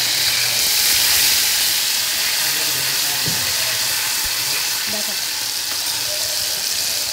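Pomfret fish frying in a pan, a steady loud sizzle and hiss throughout with a few faint clinks, no talk.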